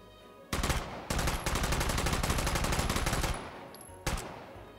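Automatic gunfire in the VR shooter H3VR: a short opening burst, then a long rapid string of close, loud shots, a pause, and one final brief burst.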